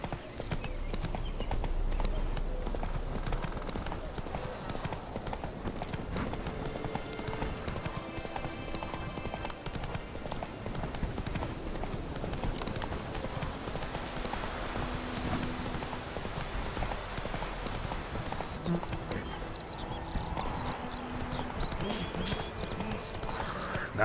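Roach the horse from the game The Witcher 3 gallops with steady, rhythmic hoofbeats running continuously under layered game ambience and music, with brief snorts.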